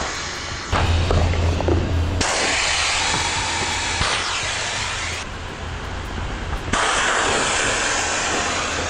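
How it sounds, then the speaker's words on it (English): Air rushes out of the pushed-in valve of an inflatable solar electric boat bladder, making a loud, continuous, close whooshing hiss that shifts in intensity over several seconds. "All you have to do is push this valve in once to release the air."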